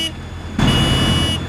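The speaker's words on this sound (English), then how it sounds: "Here is Grampy Rabbit on his hovercraft" A cartoon hovercraft arrives with a steady loud engine drone and a high whine that swell abruptly partway through and hold, carrying Grampy Rabbit in a children's cartoon.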